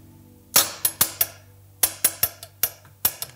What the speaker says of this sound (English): When I push down on it, you would hear it like banging up against the granite.